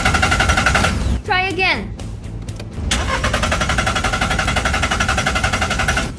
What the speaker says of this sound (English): let me try to start it first